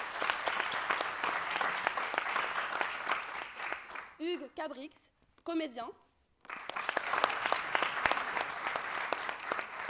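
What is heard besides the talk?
audience applause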